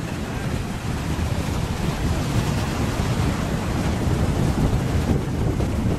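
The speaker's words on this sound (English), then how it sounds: "actually use the wave whenever the waves come in" Ocean waves break on a beach during surf fishing, a loud, continuous broadband roar of surf mixed with wind buffeting the microphone, with no talk.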